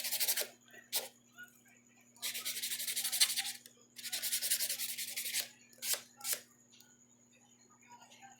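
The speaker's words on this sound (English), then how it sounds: "take the buffing block, take the heavy side, just buff the crap out of it" Heavy side of a buffing block scrubbing cured acrylic resin: a string of brisk, hissing rubbing bursts, some long and some quick, close up with short gaps between them.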